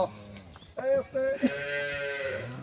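A high-quality dairy cow on a village farm gives several close moos in a row, mid-pitched and loud, with faint bits of background talk and movement around it.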